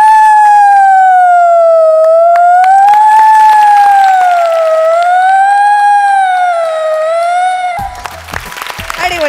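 A performer's voice imitates an ambulance siren at a comedy mimicry act, a loud wavering wail held steadily for several seconds before applause and crowd noise break in at the end.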